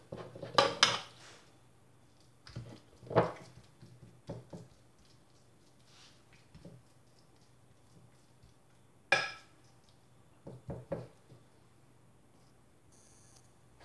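Blood sausage is spread across a lasagna dish, heard as scattered scrapes and clinks of a utensil against the dish, with short bursts separated by quiet pauses.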